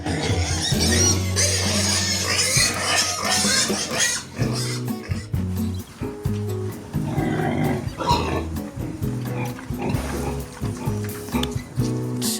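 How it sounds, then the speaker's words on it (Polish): Pigs on a Brazilian farm grunt and squeal in a noisy, jostling crowd at feeding time, loud and close throughout with overlapping calls and some splashing. "Wśród prosiaków na widok żarcia powstaje niemałe poruszenie."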